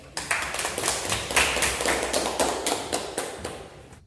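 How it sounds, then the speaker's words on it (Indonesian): A classroom full of students applauds a classmate who answered a question, a dense burst of many hands clapping that swells, holds steady for about four seconds, then thins and fades. "beri aplaus kepada teman kalian yang sudah berani menjawab"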